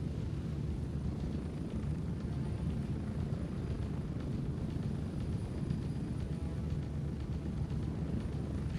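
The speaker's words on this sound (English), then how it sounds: "The helicopter's so loud without it." A helicopter flies in the video game Gray Zone Warfare, a steady, loud, close low rotor and engine roar droning continuously throughout without talk.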